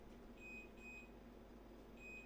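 A household electronic alarm gives short, high-pitched beeps, two in quick succession and then another after a pause, over a low background hum. The beeps are faint and nobody speaks.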